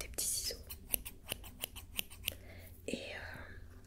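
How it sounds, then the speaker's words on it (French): Small scissors snipping during an ASMR unboxing, with several crisp, close cuts spaced through the clip and soft, quiet movement between them. "J'ai des petits ciseaux"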